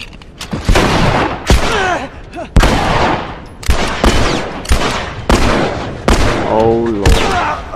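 Gunfire in The Last of Us, a video game: loud, sharp repeated shots about once a second, mixed with game sounds and bits of other noise, with no clear talking.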